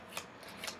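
Tarot cards being shuffled by hand, two short soft riffling bursts close by and quiet, separated by a brief pause.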